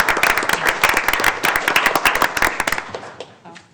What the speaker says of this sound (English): So give her a round of applause for Julie.